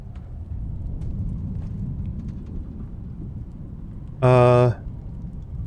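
Rain and a low rumbling thunderstorm in the survival game Icarus, a steady broad wash of downpour throughout, broken near the end by a short loud harmonic tone.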